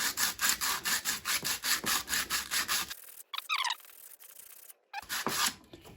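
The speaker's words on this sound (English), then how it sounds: "just got some very fine sandpaper with a block. We're not getting carried away here, just nice and gently, because it is aluminium" Fine sandpaper on a block rubs gently across an aluminium turbo part in a steady back-and-forth rhythm, close and clear, with a short pause midway before the strokes resume.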